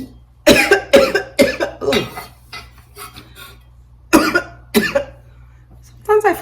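A string of sharp, close coughs in uneven bursts, a few in quick succession, then a pause before two more fits, with a steady low hum behind.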